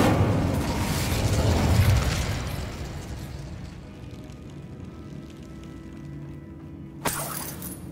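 A fire spell cast in Hogwarts Legacy bursts with a loud roaring whoosh that fades into a low rumbling tail, then a sharp bright crackle near the end, with no talking.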